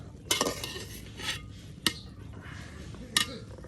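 Rice and lentils going into a pot of vegetable khichdi in a rural home kitchen: a few sharp clinks and clatters of utensil against pot, with soft scraping between them, close by.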